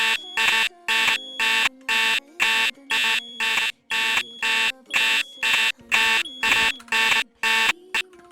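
Fire alarm sounding in a Roblox game, a loud electronic tone pulsing in steady on-off bursts about twice per second, repeating evenly throughout with no talk.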